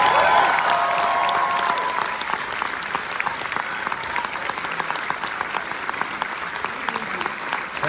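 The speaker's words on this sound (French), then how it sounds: "On applaudit Camille Cotin, s'il vous plaît." A cinema audience applauds actress Camille Cotin at a film premiere screening, dense steady clapping from a full room that thins a little after the first two seconds, with a brief voice near the start.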